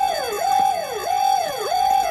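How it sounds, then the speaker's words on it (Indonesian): An alarm goes off in the film The Game, wailing as a loud electronic siren in repeated rising-and-falling sweeps roughly every half second, with no voices. "Tanpa sengaja Nicky memicu alarm hingga berbunyi"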